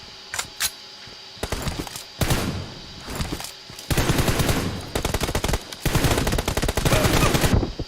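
Bursts of automatic gunfire in PUBG Mobile, several rapid rattling volleys separated by short pauses, loud and close, with later bursts longer and denser.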